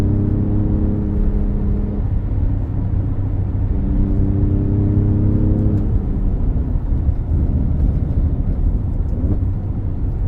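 Twin-turbo V6 of an Alfa Romeo Stelvio Quadrifoglio pulling through two rising revs separated by a shift, heard from the cabin as a loud, steady rumble that settles into a cruising drone.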